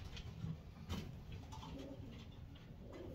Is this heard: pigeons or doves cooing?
yes